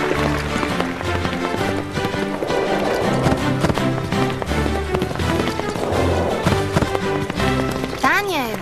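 Horse hooves pound in a fast galloping rhythm during a show jumping competition, heard under continuous dramatic music and a voice talking throughout.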